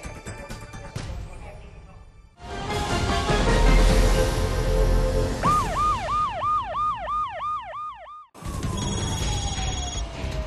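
Sirens of fire trucks and ambulances lined up on a road late at night in Guro-gu after a basement bar fire: a loud wailing siren cycles rapidly up and down over engine rumble and street noise, then a second siren tone trails off.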